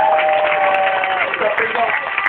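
A church congregation claps and applauds steadily throughout, with voices and a sung tone running over the continuous clapping.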